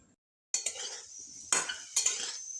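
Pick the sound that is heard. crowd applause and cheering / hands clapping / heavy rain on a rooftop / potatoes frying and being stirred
potatoes frying and being stirred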